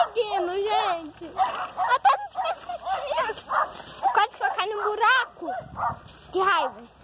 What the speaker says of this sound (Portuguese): vem brigar com esse cachorro